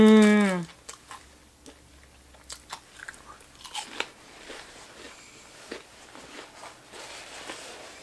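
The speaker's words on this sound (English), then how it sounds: "I'm gonna finish this onion ring" A crunchy onion ring is bitten and chewed up close after a brief tonal sound at the start, with several crisp bites and soft chewing crunches spaced through an otherwise quiet stretch.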